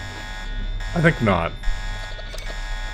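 Electronic alarm buzzer from the video game Deus Ex, a steady droning buzz running through the whole stretch beneath someone speaking briefly over it.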